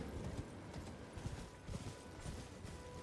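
Horse hooves clip-clop steadily in Elden Ring, a rhythmic run of soft thuds at moderate volume beneath game ambience, with no talk over them.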